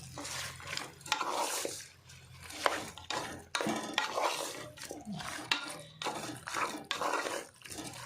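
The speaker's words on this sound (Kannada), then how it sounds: "ಮಿಕ್ಸ್ ಮಾಡ್ಬೇಕು" Chicken curry for kori rotti is stirred in a pot with a metal spoon, giving a steady run of close scraping and wet churning strokes with faint clinks against the pot, with no talk.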